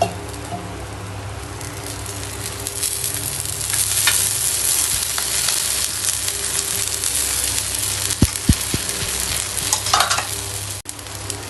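Kalvaragu adai sizzles in ghee on a pan, a steady close frying hiss throughout, with a few sharp scrapes and taps near the end.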